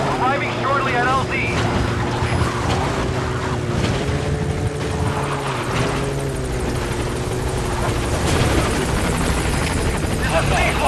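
Helicopter arriving at a landing zone in the video game Metal Gear Solid V, a loud continuous rotor thrum and turbine drone with shifting pitch as it approaches, under a radio voice and game sounds.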